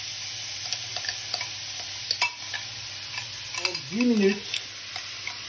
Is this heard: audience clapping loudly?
no